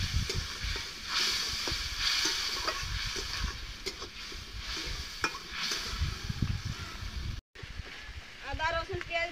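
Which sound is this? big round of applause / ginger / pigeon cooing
ginger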